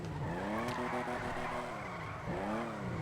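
Tyres screech and skid as a car drifts through a corner in the FiveM driving game, a loud continuous squeal that rises and bends in pitch. It eases briefly near the end, then starts again. No one speaks.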